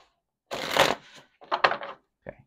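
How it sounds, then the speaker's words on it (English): Tarot cards are shuffled close up in two quick riffling bursts followed by a short tap, crisp and alone in a quiet room. "One more shuffle."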